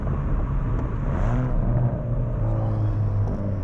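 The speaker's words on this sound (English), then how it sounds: "Oh, lovely rev match." A Hyundai i30 Fastback N's engine drones steadily from inside the cabin, with a brief rev-matching blip rising and settling during a downshift.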